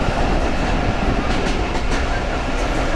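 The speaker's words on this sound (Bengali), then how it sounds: "এই গ্রামগঞ্জের মধ্যে দিয়ে আমাদের ট্রেন কিন্তু ভালোই স্পিড নিয়ে চলছে" Bhatiapara Mail running at speed through countryside, a loud continuous roar of wheels on rails with faint rhythmic clatter, heard from on board with no talk.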